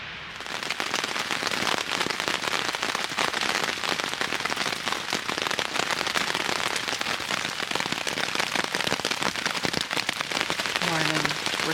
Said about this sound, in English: as you can hear, it's extremely rainy today